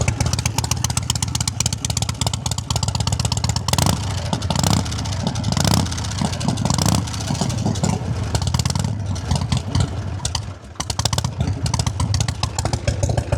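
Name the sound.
1977 Harley-Davidson Electra Glide Shovelhead motorcycle engine running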